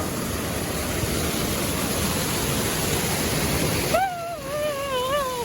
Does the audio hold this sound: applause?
no